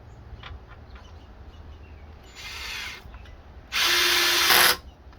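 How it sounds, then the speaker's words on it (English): Two bursts of a power tool driving a screw into a Thule T2 Pro XT bike rack end cap, a short run then a longer, louder whir about a second later, close by with no talk. "Get your screw and your washer, and then screw it into place."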